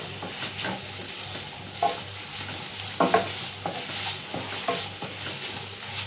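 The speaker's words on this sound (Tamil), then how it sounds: "இப்போது வெங்காயம் வெட்டி வச்சுருக்கேன். அதையும் போட்டுக்கிறேன். எல்லாம் அதில் வதங்கி வரட்டும்." Chopped onions sautéing in a pan, a continuous close sizzle broken by regular scraping stirs of a spoon against the metal, with no voices.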